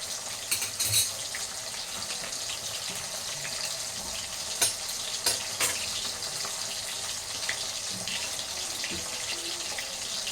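Fish fries in oil with curry leaves, giving a soft, steady sizzle at low volume, broken by occasional crackles and pops.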